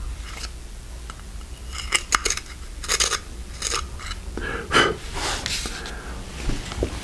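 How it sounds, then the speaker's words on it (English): A USA Gold pencil with a worn-down point is sharpened in a standard manual sharpener, giving irregular scraping, grinding bursts of moderate loudness with short pauses between them. "Let's run that into a manual sharpener just to see what we get here."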